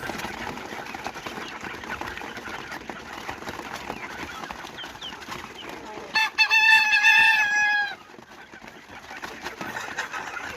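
Caged chickens kept alongside quail crowd forward to eat feed, with a low background of clucking and scratching and a brief, clear crow or squawk rising above it partway through.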